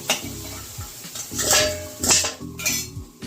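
Fried potatoes are lifted out of a pan of hot oil with a metal utensil, giving repeated scraping clinks against the pan over a faint sizzle, close and fairly loud, with no talk.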